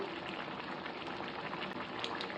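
A pot of water with rice for ghee rice at a rolling boil gives a faint, steady bubbling hiss with no break.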